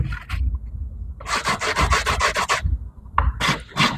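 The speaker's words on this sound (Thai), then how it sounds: "เราก็ลงตะไบ อ่าลงกระดาษทรายนะครับผม" Rapid back-and-forth strokes of sandpaper rasp against a hard plastic piece, smoothing file and saw marks, a close burst of quick rubs with short pauses between.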